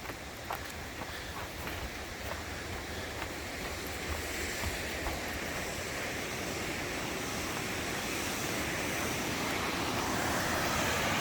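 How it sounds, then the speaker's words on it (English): Steady, broadband roar of rushing water from Muddy Creek Falls in Swallow Falls State Park, Maryland, constant and fairly distant, with no voices. "And there it is, Muddy Creek Falls, largest waterfall in Maryland."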